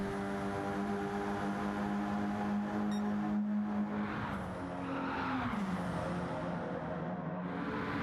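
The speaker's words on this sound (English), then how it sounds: "So we got a nice race here. 3 wide between some lap cars now." Simulated race cars run three wide among lapped cars in a NASCAR-style sim racing championship, producing a continuous loud engine drone whose pitch slides and shifts as the cars jostle, with no talk.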